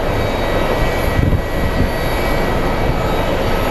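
An American Airlines jet arriving from Philadelphia lands at Phoenix Sky Harbor, its engines giving a steady, loud, broadband roar that holds level across the whole moment with no voices.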